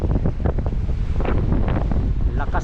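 Strong wind buffets a boat travelling from Mindoro to Navotas, a loud rumbling gust pressing on the microphone, mixed with splashing water and brief voices underneath.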